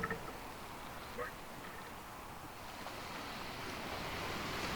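Ocean waves and a howling wind fill a sailing scene in the video game Sailwind. A continuous rushing wash of surf and wind holds steady and swells slightly louder toward the end.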